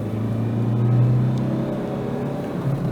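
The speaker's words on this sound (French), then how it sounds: "je vais pouvoir arsouiller un peu pour te montrer la puissance de la Focus" A Ford Focus accelerates hard on a four-lane road, its steady engine rumble and whir swelling slightly mid-way and holding, heard from inside the car with no talk.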